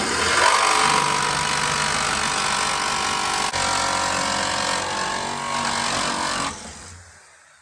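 A loud power tool cuts a fan hole through a van's metal roof for a Maxxfan install, a harsh continuous grinding roar that holds steady for several seconds, then drops away as the cut stops.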